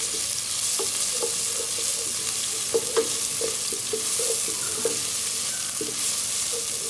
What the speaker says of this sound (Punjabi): ਉਸੇ ਘਿਓ ਉਹਦੇ ਵਿੱਚ ਜੀ ਅਸੀਂ ਅਦਰਕ ਲਸਣ ਦਾ ਪੇਸਟ ਸ਼ਾਮਲ ਕਰ ਦਿਆਂਗੇ